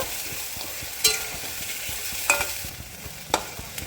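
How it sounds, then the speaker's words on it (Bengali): Spice paste being stirred into fried potatoes in a pan, with a steady low sizzle and a few sharp scraping strokes of the spoon at irregular intervals, close by and without talk. "মশলাটা দিয়ে নিয়েছি ভালো করে একটু নাড়াচাড়া দিয়ে নেব"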